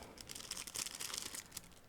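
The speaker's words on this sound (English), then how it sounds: "the turret, which is packed into a separate plastic bag, and I will open it right now" A plastic bag holding the turret of a Vespid Models 1/72 scale T-90 tank kit is opened up close, giving a steady run of crisp crinkling and rustling with a few sharper tearing bursts and no talking.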